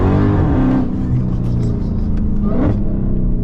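A loud, close 800-horsepower Dodge Hellcat engine rumbles steadily, its deep low drone swelling into a rev and easing back for a few seconds.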